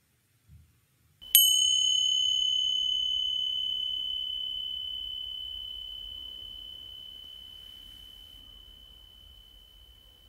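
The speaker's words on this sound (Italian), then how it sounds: "Tra un poco sentiremo il suono della campana" A single meditation bell struck once, ringing out with a clear, pure tone that decays slowly over about nine seconds in a quiet room.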